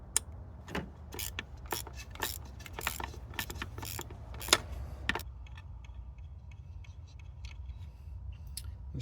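Hand ratchet turning a nut during glow plug module replacement on a Jeep Grand Cherokee WK 3.0 CRD diesel, a series of sharp close clicks in quick bursts for about five seconds, then quieter faint ticks.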